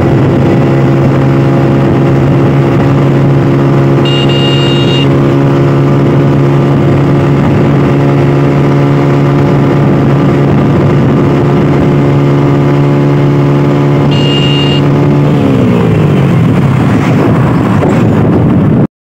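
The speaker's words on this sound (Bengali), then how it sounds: "তো আমার বাইকের টপ স্পিডটি এখন উঠাবো" Motorcycle riding hard on a windy road toward top speed, its engine holding a loud steady drone close by and then shifting pitch near the end, with wind noise throughout.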